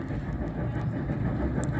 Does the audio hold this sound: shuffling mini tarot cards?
no